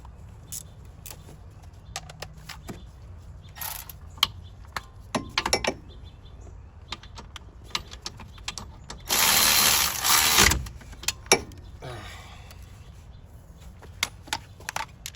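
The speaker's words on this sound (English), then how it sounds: "the electric ratchet" An electric ratchet works a bolt during wheel speed sensor replacement on a Hyundai Sonata, giving sharp scattered clicks and taps, then one strong buzzing whir of about a second and a half, close by with no talk.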